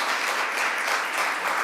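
A crowd at a political event gives a round of applause for a Congressman: dense, steady clapping that holds at an even level for the whole stretch, with no voices over it.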